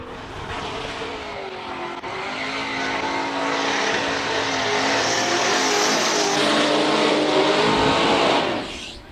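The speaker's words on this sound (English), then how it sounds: "That's how you warm up a Z4 BMW." A BMW Z4 race car at a hill-climb event revs hard while warming up, a loud, sustained, rasping engine roar that swells and holds before cutting off abruptly at the end.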